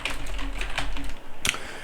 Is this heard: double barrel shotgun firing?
no